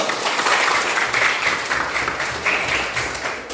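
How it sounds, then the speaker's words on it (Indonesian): A classroom group bursts into applause, a dense, steady wash of many hands clapping at once for a few seconds, fairly loud and close, with faint voices underneath. "Oke, ya tepuk tangan dulu."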